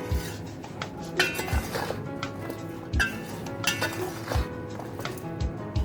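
Pickle spices are tossed in a bowl, giving repeated clinks and scrapes of utensil against dish at an irregular rhythm. The sounds are close and moderately loud, with faint room noise between them.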